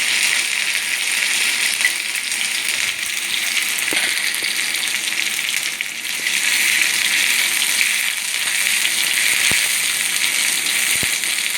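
Steady, dense sizzling of ginger garlic paste frying in hot oil, continuous and fairly loud throughout with no talking.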